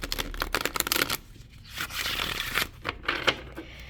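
Tarot cards being shuffled by hand during a reading, a quick run of dry riffling and scraping bursts, close and fairly soft, with a brief pause midway and no talk over it.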